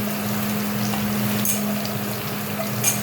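Onion, garlic and tomato sizzle steadily in a frying pan for a mashed okra bhindi bharta, a continuous close hiss and crackle with no talking.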